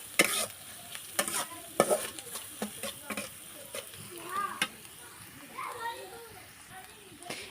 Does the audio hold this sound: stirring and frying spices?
yes